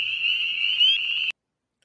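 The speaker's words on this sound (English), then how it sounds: "It forces the air backward and forward between its lungs and vocal sac so that its vocal cords can make the air vibrate, which results in the sound of their call." A frog calls in a single sustained, loud, high buzzing trill that lasts just over a second and then cuts off abruptly into silence, with no voices.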